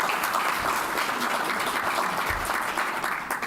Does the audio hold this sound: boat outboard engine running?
no